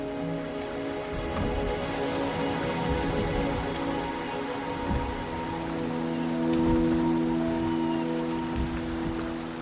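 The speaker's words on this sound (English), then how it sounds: "The rain is subsiding, and the sky will soon clear." Steady rain in the video game Wuthering Waves pattering on surfaces, continuous and even throughout, with no voices.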